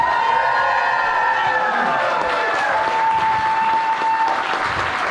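A crowd at an outdoor voter registration rally applauds a volunteer called up on stage, mixing clapping with cheers and whoops, while tonal sounds slide and hold above the clapping throughout.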